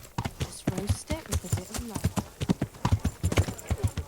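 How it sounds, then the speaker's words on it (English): Horse hooves clip-clop in the medieval video game Kingdom Come Deliverance, a steady run of close hoof knocks with a brief whinny mixed in, all heard under a man's ongoing speech. "Is there anywhere I can put the horse?"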